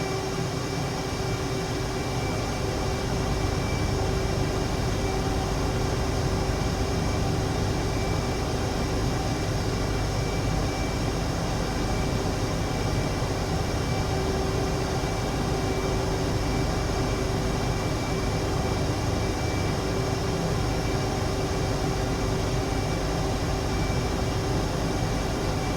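An F/A-18 Super Hornet jet in a flight simulator game flies past a tower, heard as a loud, steady broadband roar that holds without a break for the whole stretch.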